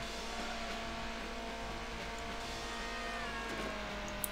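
A car accelerates in the Nintendo DS racing game Need for Speed Underground 2, its engine a steady, fairly quiet drone that rises slowly in pitch over a constant mix of game sound, with no voices.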